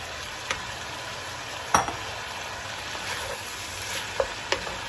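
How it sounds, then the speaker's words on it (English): Keto chicken chowder with celery root being stirred in a pot, a steady soft sizzle and bubbling bed with a few faint spoon knocks and scrapes, close by and without talk. "let's go on and mix that all up"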